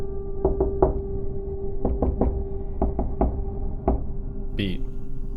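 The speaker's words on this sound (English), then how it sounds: "the exact same beat knocked back at us." Knocking on a door panel in a rhythmic beat: several quick groups of two and three sharp raps spread across the stretch, clear and close over a low steady hum, ending with a brief higher squeak.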